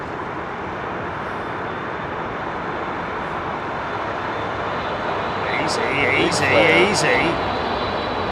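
An All Nippon or Japan Airlines jet departing Heathrow from Haneda gives off a steady, loud engine roar that builds toward the end, with people talking briefly over it.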